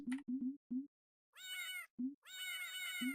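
Cat meowing in the video game Yume 2kki: several short low meows in quick succession alternate with two longer, bright, wavering cries, loud and close with brief silences between.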